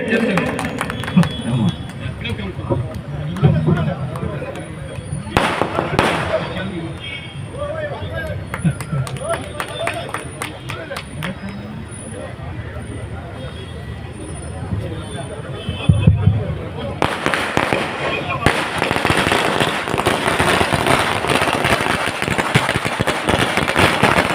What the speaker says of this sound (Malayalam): പടക്കം പൊട്ടിച്ചു തീർക്കരുത്